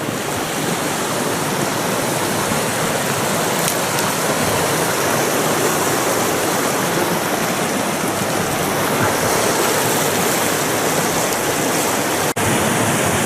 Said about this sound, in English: Heading to cross the Knife River as it flows out of